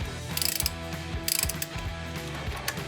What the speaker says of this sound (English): And then with a 14mm socket,